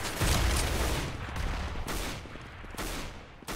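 Rapid gunfire in the video game CS:GO: dense, loud bursts of shots in close succession, with a few sharp distinct reports standing out toward the end.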